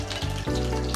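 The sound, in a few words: olive oil sizzling in hot pan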